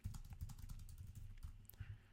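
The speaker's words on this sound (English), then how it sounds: "we can just start typing" Fingers type on a computer keyboard while writing a blog post, a fast, steady patter of soft key clicks that is close but low in level, with no talking.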